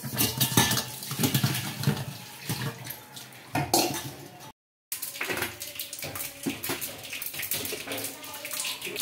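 Pots, pans and cutlery clatter and clink as dishes are washed in a kitchen, with running water and dense, close, irregular knocks and a brief dropout midway.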